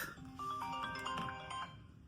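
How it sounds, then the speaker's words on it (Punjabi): A phone rings with a bright electronic ringtone, a short melodic tone pattern repeating clearly over a faint background. "ਫੋਨ ਬਹੁਤ ਵੱਜਦਾ ਜੀ ਯਾਰ"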